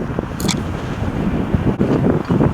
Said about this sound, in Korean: 저게 바람 많이 불니다